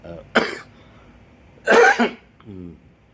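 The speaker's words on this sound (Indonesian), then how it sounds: "batuk ya pagi-pagi ya" Two close, sharp coughs with a short pause between, followed by a brief throat-clearing grunt.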